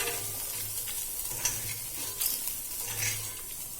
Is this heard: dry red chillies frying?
yes